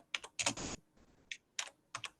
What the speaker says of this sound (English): We can hear you typing your question.